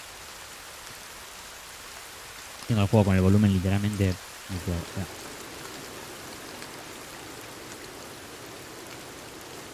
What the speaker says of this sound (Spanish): Estoy escuchando que llueve.